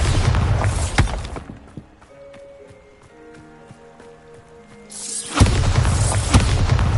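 A Bombarda spell explosion in the video game Hogwarts Legacy: a loud, heavy blast opens the clip and a second booming burst erupts later, with quieter shimmering magical tones ringing in between.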